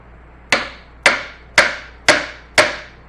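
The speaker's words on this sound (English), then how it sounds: "Give her some light taps. Don't go too crazy." Light hammer taps loosening the front housing of an XT6 alternator: five evenly spaced, sharp metallic knocks, close and clear, with quiet gaps between them and no voices.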